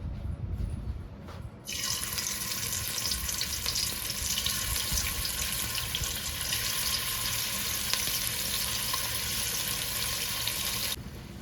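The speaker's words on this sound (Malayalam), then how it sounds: "ഇനി നമ്മൾ പ്രോൺസ് അതിലോട്ട് ഇട്ട് കൊടുക്കാം" Raw prawns hitting a hot pan for a ghee roast set off a sudden loud, steady hiss of frying that holds evenly for about nine seconds, close by, then cuts off sharply.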